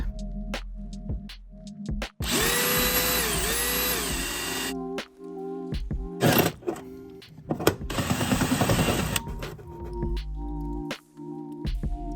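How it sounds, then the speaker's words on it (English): A power drill whirs in several bursts of varying length, close and loud, with quiet pauses and small clicks between runs, drilling holes while building a custom wiring harness for an LS-swapped 1974 Corvette. "I think I'll go ahead and just drill some holes."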